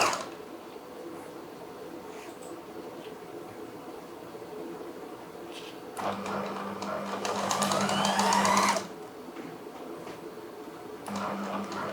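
A sewing machine stitches a Lucknowi kurta, running in a fast, rattling burst for a few seconds between quieter pauses, with a shorter run near the end.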